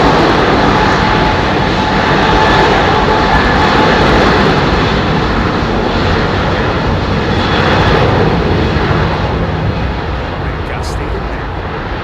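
A British Airways Airbus A380 double-decker at London Heathrow, heard as a loud continuous jet engine roar that eases slightly toward the end, with people talking over it.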